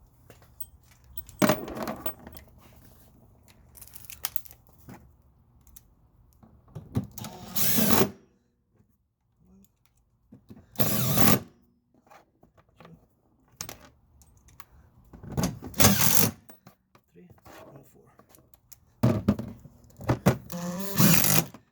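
Several short bursts of a power tool whirring while fastening body panels on a scooter, each lasting a second or so, separated by quiet pauses with faint handling noises.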